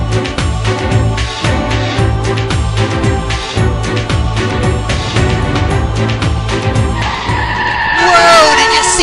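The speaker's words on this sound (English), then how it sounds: "That guy in the van almost cut me off." A van passes close to a cyclist on a roadside bike trail, its loud engine roar and tire noise filling the scene up close, swelling as it goes by, with wind buffeting throughout.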